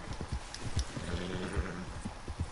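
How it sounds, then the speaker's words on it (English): A panicked horse in Red Dead Redemption 2 whinnies and snorts while its hooves clop unevenly, loud and close, in short agitated bursts over a steady outdoor background. "I can't even do anything because my horse is freaking out"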